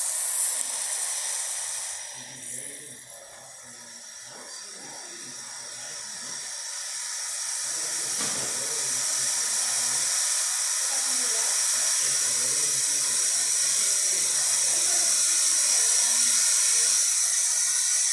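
A steady, loud hiss from a Breville Barista Express steam wand builds and holds for most of the stretch, with soft indistinct voices and clatter underneath early on.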